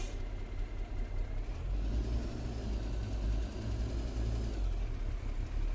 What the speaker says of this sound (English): Let's get this rig fired up.